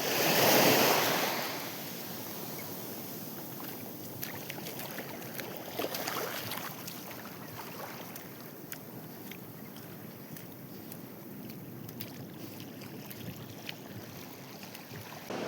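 Sea waves heard from a fishing boat at sea, a steady broad wash of water and wind noise with a louder surge at the start, then continuing evenly with no voices.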